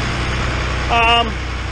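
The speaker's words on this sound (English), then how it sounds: "Tractor's warming up." A farm tractor's engine idling as it warms up before a corn harvest, a steady low rumble close by, with a brief tonal whine rising over it near the middle.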